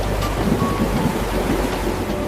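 Heavy rain pours down steadily in a flood, with a dense, loud, continuous hiss and a low rumble underneath and no voices.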